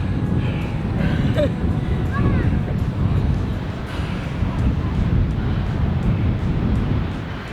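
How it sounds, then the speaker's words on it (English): Strong wind of about 30 miles an hour blows across a hilltop in the Texas Hill Country, buffeting the microphone in a loud, continuous low roar, with a voice talking under it. "The wind today up here on top is about 30 miles an hour"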